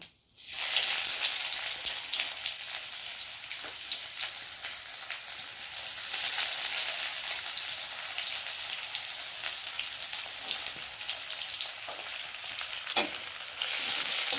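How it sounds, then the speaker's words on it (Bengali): Thinly sliced onions fry in hot oil seasoned with bay leaves and cumin, giving a steady, close crackling sizzle that carries on evenly with a few sharper pops. "পেঁয়াজটাকে ভেজে নেব।"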